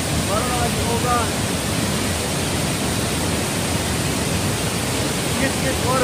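Git-git waterfall in Bali, Indonesia, pours in a loud, steady roar of rushing water, unbroken throughout, with faint bird chirps now and then.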